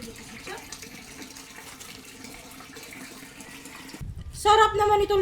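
Water runs steadily from a household tap into a container for about four seconds, then gives way to louder clattering and ringing tones.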